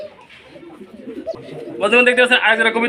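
At a pigeon farm, pigeons break into a loud, close burst of throaty, rhythmic cooing after a quieter stretch of low murmuring.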